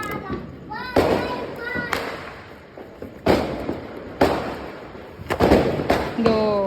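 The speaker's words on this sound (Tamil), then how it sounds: "லட்டு பட்டாஸ் மினி பால் அது பேர்." Small laddu mini ball firecrackers bursting during Diwali, a series of sharp bangs and thuds near and far, with children's voices and chatter running underneath.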